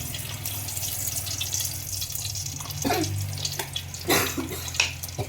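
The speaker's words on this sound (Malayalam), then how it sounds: "ചൂട് എണ്ണ ഒഴിക്കാം" A steady pour of hot oil into a pan of egg roast, with soft sizzling hiss and a few sharp crackles and splashes near the end, close by, with no voices.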